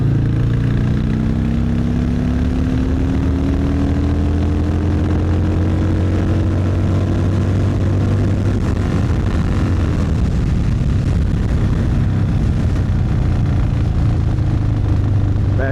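A Harley Sportster Hammer with a 1250 big bore kit riding at speed, a loud continuous engine drone with a rising and falling pitch, heavily mixed with rushing wind noise.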